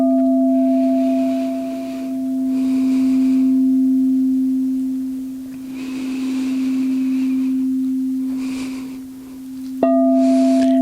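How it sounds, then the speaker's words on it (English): A single singing bowl rings with a steady, pure sustained hum that swells and fades in slow waves, then is struck again near the end, bright and close, with no talking. "allowing the sound of the bowl to carry your awareness out"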